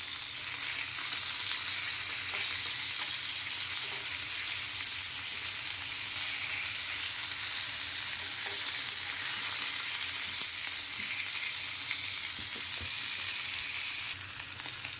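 Steady, dense sizzling of shol (snakehead) fish frying in hot oil in a frying pan, close and constant throughout with faint occasional clinks, no voices.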